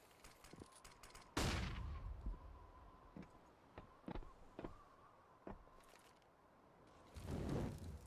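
An AK-47 gunfight in Counter-Strike, heard as sharp single rifle shots and short bursts spaced irregularly, with a loud blast early on and another near the end over a quiet background.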